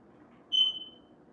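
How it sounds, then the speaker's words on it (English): A single short, high-pitched electronic chirp from a smoke alarm sounds once over a quiet low hum. "I don't even know what that's called, a smoke alarm?"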